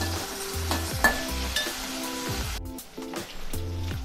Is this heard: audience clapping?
no